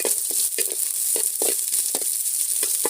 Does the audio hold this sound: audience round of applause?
no